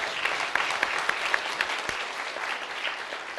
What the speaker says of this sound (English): So I think a round of applause for Richie.